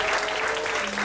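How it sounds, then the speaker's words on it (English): Audience applause at a PechaKucha Night event in Ubud, Bali, a steady wash of clapping filling the whole short moment at even loudness. "Can we have a big applause for everyone?"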